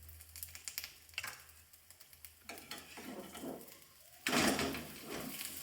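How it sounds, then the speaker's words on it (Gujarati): Aloo paratha fries in oil on a pan with a crackling sizzle, light tapping at first, then a louder burst of frying partway through, up close with no voices. "ફરીથી આપણે તેલ એડ કરીશું ઉપર"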